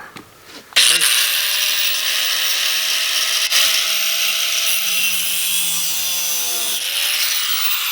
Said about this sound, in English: we're taking our grinder and we are cutting just a little slot